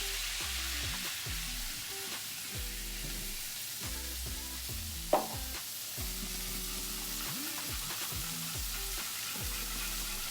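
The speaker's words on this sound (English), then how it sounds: "Now that's when I'm gonna throw my heavy cream on." Heavy cream goes into a hot pan with garlic, setting off a steady loud sizzle and frying hiss that continues throughout, with a single clear clink from utensil or pan partway through.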